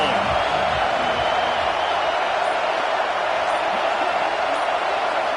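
A football stadium crowd at Florida versus Alabama roars in a steady, loud, unbroken wall of cheering that fills the whole stretch with no pauses.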